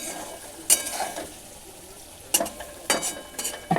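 Onions frying in a pan until lightly browned for an egg bhujia: a soft continuous sizzle with three or four sharp spatula scrapes against the pan, close by, no talking.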